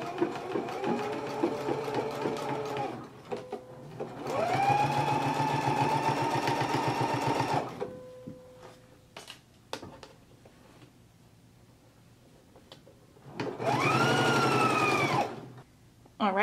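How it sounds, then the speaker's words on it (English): A sewing machine stitches a fabric facing along a half-inch seam allowance in three loud, steady runs, with quiet pauses between them and a few faint clicks during the breaks. "So now I'm going to go ahead and stitch, and I have the edge of my fabric lined up with the 1/2 inch seam allowance."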